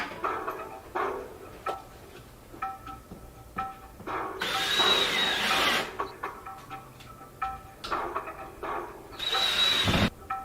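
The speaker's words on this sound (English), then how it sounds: "you're always going to want to pre-drill the holes to make sure that the lags go in smoother" A power drill pre-drilling holes in a wall for the lag bolts of a TV wall mount, two loud whirring bursts of a few seconds each, separated by quieter handling noises.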